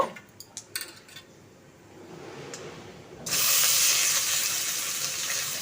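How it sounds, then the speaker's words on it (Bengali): Washed lentils (dal) tipped into a hot frying pan: a few soft metallic clinks, then a sudden loud, steady sizzle of frying that continues to the end, close and without talk. "এবার দেখো আমি যে ডালটা ধুয়ে রেখেছিলাম সেই ডালটা দিয়ে দেব"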